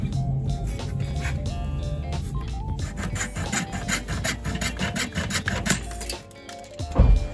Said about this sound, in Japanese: この線の内側を切ってね。